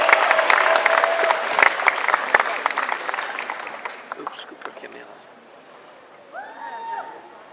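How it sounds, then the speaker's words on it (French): An audience at a Japan Expo cosplay show claps loudly for a few seconds, the applause thinning and fading out before a voice begins speaking in French. "avec Arcade Sonar, on l'applaudit très fort."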